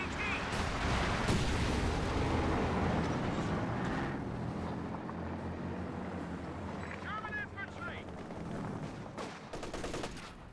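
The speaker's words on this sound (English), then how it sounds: "Incendiary mortar now being brought in" Incendiary mortar shells and gunfire in the World War II strategy game Company of Heroes 2, dull booms and crackling impacts layered over battle noise while a commentator talks throughout.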